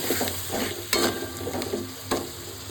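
Spices sautéing with Kashmiri red chili powder and a splash of water sizzle softly while a spoon scrapes the pan in a few distinct strokes.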